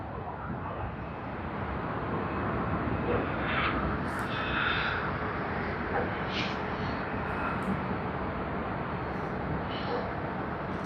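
Jetstar airliner in Pride livery at Sydney Airport, a steady broad engine roar held at moderate distance for several seconds, fairly quiet and unbroken, with no talking.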